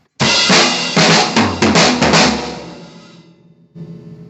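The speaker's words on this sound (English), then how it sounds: "The third part of the drum fill" A drum fill on an acoustic kit, the right hand moving around the toms while the left stays on the snare, plays as a quick run of loud, dense hits for about three seconds, decays, then ends with one more hit.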